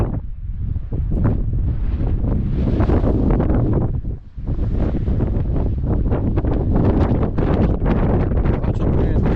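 Strong wind gusts up the canyon walls at Canyonlands National Park, a loud, steady roar buffeting the microphone with a brief lull partway through.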